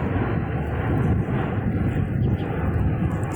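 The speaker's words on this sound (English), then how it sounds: "sorry for the airplanes" A fixed-wing airplane drones overhead above a residential area under a busy flight path, a steady loud low rumble that holds without pause.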